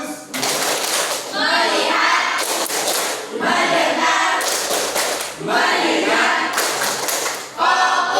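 A group of children does the 'tepuk fokus' clap routine: loud bursts of rhythmic group clapping alternate with short chanted phrases in children's and adults' voices, repeated several times.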